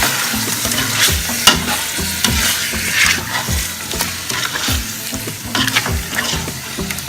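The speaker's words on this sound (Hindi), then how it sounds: "और गोश्त को भूनते हैं उस वक्त तक जब तक कि ये सफ़ेद ना हो जाए।" Meat for Karachi biryani is fried and stirred in a pot, a loud continuous sizzle with repeated scraping strokes of a spoon, close and steady.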